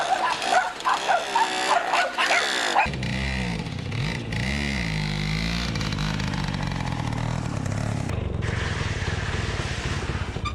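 A Romet Bartek moped rides along with its small engine buzzing steadily. The buzz rises and shifts in pitch as the throttle changes, loud and continuous throughout.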